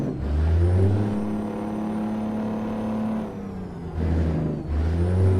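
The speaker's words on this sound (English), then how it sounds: "let's use a bit of engine braking here, see if it can keep this absolute beast" Heavy truck in American Truck Simulator, hauling a load of nearly 100,000 pounds on a special transport route, holds a low, steady engine-braking drone that dips briefly and then returns, with no talk over it.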